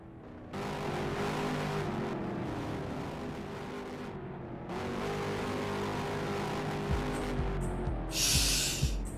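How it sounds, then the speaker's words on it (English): Race car engines in a modded racing video game at the Brickyard hold a steady, loud engine drone that drops out briefly, then returns and swells into a louder revving burst near the end, with no talk. "Once you're ready, start your engines."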